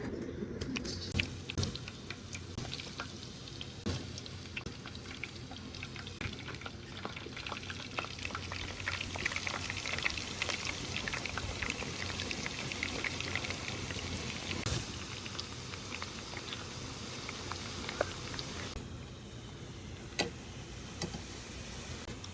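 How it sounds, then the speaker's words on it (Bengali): Potato chips frying crisp in hot oil, a steady dense sizzle and crackle running throughout without talk. "মসমসা করে ভেজে নিব"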